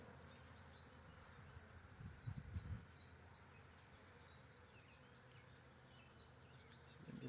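Honeybees buzz steadily around an open hive during a spring inspection, a dense continuous hum with a brief louder burst of handling noise near the middle.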